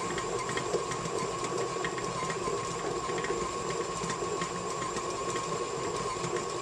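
Stand mixer stirring potted cheese on slow speed, a steady continuous whirring hum with a faint rhythmic rattle, constant loudness, no talking.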